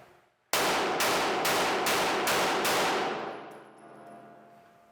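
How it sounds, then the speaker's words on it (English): A rapid string of about six loud, sharp gunshots rings out at an even pace, fired as doubles on each target in a shooting transition drill, then fades into a ringing decay. "Now when we do doubles, I'm gonna fire 2 rounds in every box"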